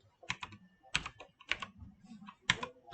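Keystrokes on a computer keyboard while entering an ATX cabinet with SMPS into an accounting entry, arriving in several short bursts of close, crisp clicks separated by brief pauses.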